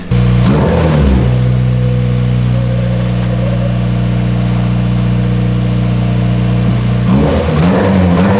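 A freshly swapped Mazda Miata BP engine idles loudly up close with a steady low hum, broken by a short rev near the start and another burst of revving near the end.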